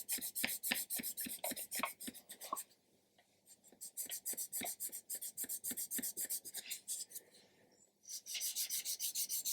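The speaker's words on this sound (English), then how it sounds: "it'll be easier for the file to follow" A file cuts a groove in a small part for a 1/200 scale Scharnhorst model ship, giving rapid, rhythmic rasping strokes, close and crisp, in several runs separated by short pauses.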